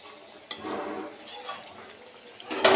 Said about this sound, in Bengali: আর একটু নাড়াচাড়া করে একবার তোমাদের দেখিয়ে দিই।